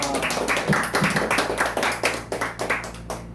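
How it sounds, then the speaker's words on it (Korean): Warm audience applause at an academy opening ceremony, welcoming a guitarist about to perform; dense, steady clapping from a nearby crowd, loud and continuous throughout. "박수로 모시겠습니다"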